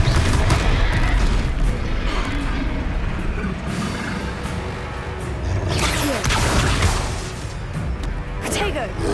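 Confringo spell blasts explode in the Hogwarts Legacy game, with repeated booms, crashes and whooshes in bursts through a busy combat mix, loud and close. Voices shout over the blasts.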